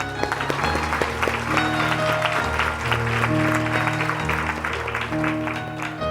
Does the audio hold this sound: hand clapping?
yes